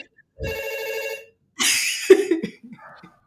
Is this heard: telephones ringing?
yes